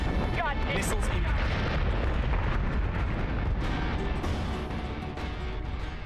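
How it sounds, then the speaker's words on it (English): Missiles and flak bursts in the Battlestar Galactica: Deadlock space combat game rumble in a thick, continuous barrage of booms and explosions, loud and dense, easing slightly toward the end. "nothing like dragging all those missiles through the flak field"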